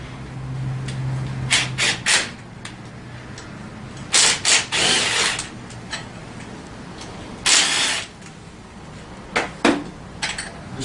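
An 8mm wrench working screws off a Tao Tao CY50D scooter rack, a series of short metallic ratcheting and scraping bursts in irregular clusters, close by, between quiet pauses with no talking.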